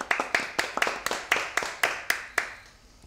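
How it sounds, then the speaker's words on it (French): A live audience claps in a steady, even rhythm right after a Turkish-themed tune on a French music show about travelling instruments; about a dozen crisp, close claps that fade out at the end. "Que c'est agréable d'avoir des applaudissements, des vrais applaudissements en direct"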